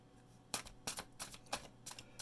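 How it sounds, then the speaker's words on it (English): Tarot cards are shuffled by hand in a quiet room, five or six crisp riffling bursts in quick succession, close and soft, with no voice. "I usually like to shuffle until a card pops out."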